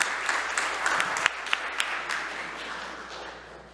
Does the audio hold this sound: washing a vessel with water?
no